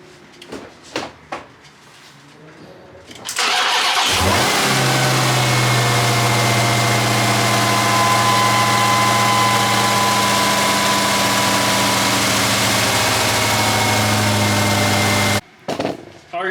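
A Chrysler 300 Redeye cranks briefly and fires into a loud, steady idle with a deep droning hum that holds for about eleven seconds before cutting off, after a few clunks and sounds of handling beforehand.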